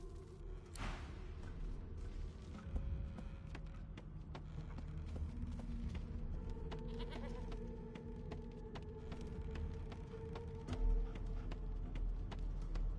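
A sheep in Divinity Original Sin II bleats amid a busy game soundscape, its calls rising over steady ambient music and background effects across the stretch.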